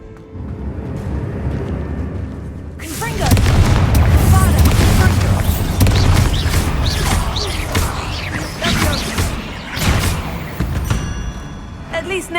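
Confringo blasting spells exploding in the video game Hogwarts Legacy, a sudden loud booming burst followed by sustained crashing rumble and debris noise, with character voices over the din.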